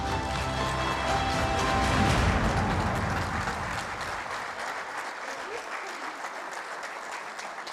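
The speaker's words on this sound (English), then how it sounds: "I think that the applause was not really up to the expectations" Audience applause at an Enactus Tunisia event, a broad wash of clapping that is loudest early and then settles into steady, somewhat thinner applause, with voices mixed in.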